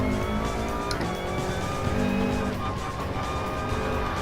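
A race car engine in Gran Turismo Sport drives a lap, a loud sustained high-revving drone with steady harmonic whine and shifting pitch, close and continuous throughout.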